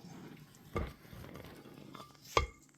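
Utensil scraping and clinking in a bowl of German chocolate cheesecake batter, two sharper knocks against the bowl standing out over soft, faint stirring noise.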